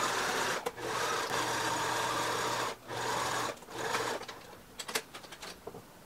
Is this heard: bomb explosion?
no